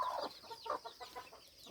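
Turkey chicks and chickens at a home farm give soft, rapid clucks and peeps, close by and fairly quiet, with no talking.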